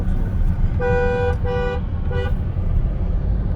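An MG Astor's car horn honks three times in short beeps, loud and close, over a steady rumble of engine and road noise.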